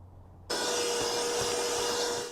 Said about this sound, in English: First thing we're going to do is go ahead and vacuum all this debris